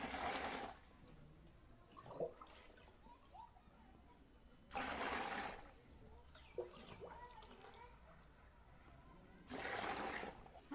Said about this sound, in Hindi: सबसे पहले दीदी बल्टिया में 4 लीटर पानी लेवे लगी है